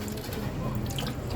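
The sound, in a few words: running tap water while washing cooking utensils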